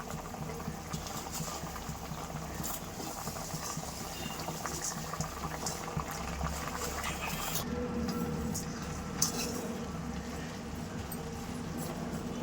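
Roasted semiya (vermicelli) simmers in a covered pot for egg semiya, a low continuous bubbling and burbling with faint patter, steady and unobtrusive throughout.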